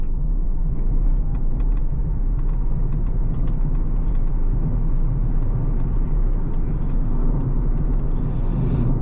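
A 2021 Vauxhall Corsa-e electric car accelerating on the road, heard from inside as a steady, loud low rumble of road and tyre noise with a faint motor whine, continuous throughout with no talk.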